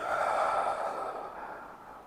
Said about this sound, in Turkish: Tüm nefesimi boşalttım.